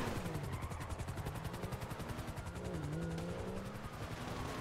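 A close helicopter's steady, rhythmic rotor chopping fills the scene, loud and constant throughout, in Grand Theft Auto V.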